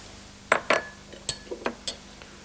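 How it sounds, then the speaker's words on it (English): Utensil clinking against a bowl while shallots, garlic and other ingredients are mixed together, several distinct near taps and scrapes at an irregular rhythm. "all the ingredients except the yogurt, mix it all together"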